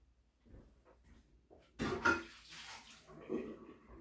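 Brine is poured into home-preserved jars of garlic, a soft splashing pour that swells briefly and then tapers into quieter trickles, faint and close with a little low background noise.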